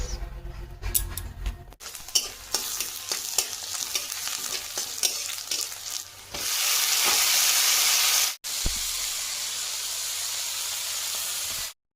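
Mustard oil fries in a wok in a Sundarbans home kitchen, with scraping stirring strokes at first, then a loud, continuous sizzle that swells up close before cutting off briefly and resuming.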